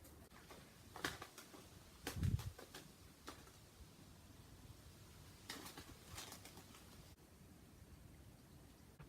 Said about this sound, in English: I wish these pigeons would get a room.